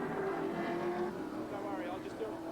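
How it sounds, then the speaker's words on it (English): Peter Jackson Nissan Skyline touring car, number 30, entering the pit area at the 1987 Calder Park 300 race, its engine droning steadily at moderate distance beneath commentator talk and crowd noise. "Now coming into the pit area is the Peter Jackson Nissan Skyline, car number 30"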